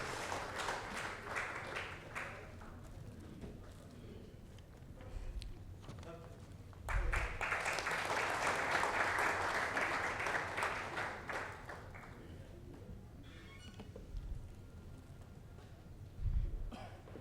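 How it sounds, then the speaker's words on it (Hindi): Audience applause for Amit Mishra, a social activist, at the NTA Awards 2024 open mic: a broad wash of clapping swells in the middle of the clip, with thinner scattered claps and a few low thumps at the start and end. "जोरदार तालियां अमित सर के लिए।"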